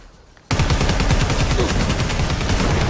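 Sustained rapid automatic gunfire from Predator: Hunting Grounds erupts suddenly after a quiet moment and continues loud and close, a dense rattling burst with no talking.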